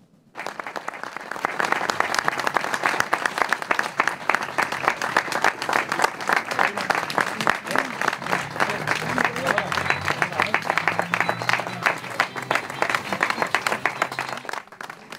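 Loud, sustained ovation from a crowd gathered outside a courthouse as a detained cattle rancher from Lumbreras leaves, dense clapping running nearly fifteen seconds with faint voices mixed in.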